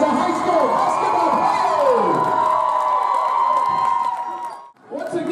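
A high school basketball crowd at a 2015 conference game cheers and shouts for a player's 1,000th career point. Voices rise and swell loudly for about four seconds, then cut briefly before the noise picks up again.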